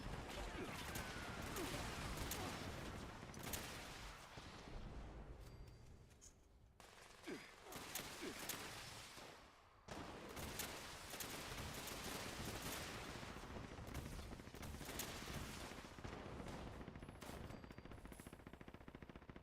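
Rapid gunfire rattles through a Fallout 76 multiplayer fight, nearly continuous bursts at steady loudness with a brief lull midway, mixed with game effects and low voices.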